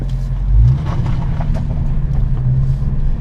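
A Dodge Hellcat's powerful engine rumbles loudly and revs up close with its exhaust valves open, a deep throaty roar with no voices.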